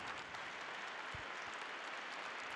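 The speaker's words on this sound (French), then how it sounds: "qu'on vous applaudisse très fort" Applause from an audience at a French public debate on democracy, a steady dense wash of clapping filling the whole moment with no voices.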